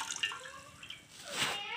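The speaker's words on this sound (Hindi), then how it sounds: "तो पहले हम 1/2 लीटर पानी एक भगोने में डालेंगे" Half a litre of water poured into a cooking pot for a sweet syrup, a short splashing pour that swells near the end of the clip, fairly quiet with no talk over it.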